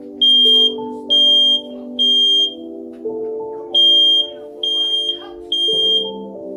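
Smoke alarm sounding in a house, with a loud, piercing beep repeating in roughly half-second bursts about once per second, while a person talks underneath.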